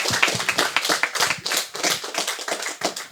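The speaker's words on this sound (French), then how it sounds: "on peut les applaudir très fort" Audience clapping at a French-language entrepreneurship talk, close, brisk and uneven hand claps from a modest group, loud and continuous without voices.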